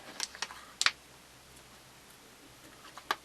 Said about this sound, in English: next step is to trim it. Oh, okay. So I've got my trusty little scissors